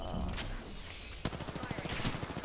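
A rapid burst of automatic gunfire from an R-301 rifle in Apex Legends rattles close and loud in a fast run of evenly spaced shots, with a player's voice talking over it.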